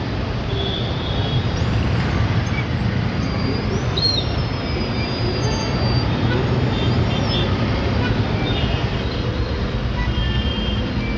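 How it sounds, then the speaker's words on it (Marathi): Heavy road traffic in a Hinjewadi jam: a dense, continuous rumble of engines and tyres with faint high whines drifting through, steady and unbroken throughout. "बघा हे काय ट्रॅफिक आहे का काय बघा"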